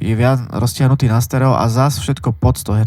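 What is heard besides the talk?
None of the usual background noises is heard.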